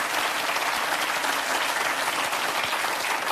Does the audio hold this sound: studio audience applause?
yes